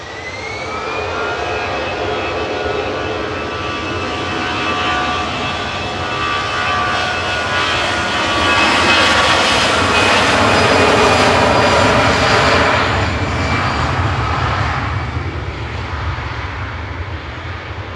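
A 13-year-old Lufthansa Airbus A320 takes off from Manchester for Frankfurt, its jet engines producing a loud, continuous roar with tonal whine that peaks as it passes close by and then fades slightly.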